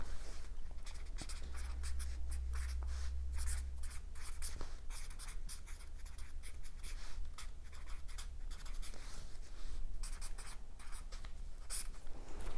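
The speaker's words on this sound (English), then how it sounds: "So let's write that down." Pen scratching steadily across paper, close and continuous for about twelve seconds, with short strokes and pauses in the rhythm and no voices.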